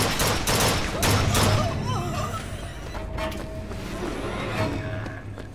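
Gunfire in the BioShock Infinite video game comes as a dense, loud fusillade of rapid shots in the opening seconds, then eases into continuous battle noise with a voice briefly heard.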